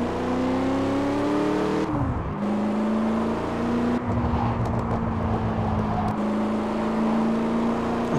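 Camaro engines roar in the racing game Gear.Club Unlimited, a loud continuous drone whose pitch climbs and then drops sharply around two seconds in as gears shift, holding steady over tyre and road noise.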